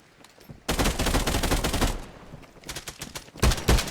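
Sustained bursts of gunfire in a battle royale video game, a dense loud volley lasting over a second, then scattered shots and a final loud burst near the end.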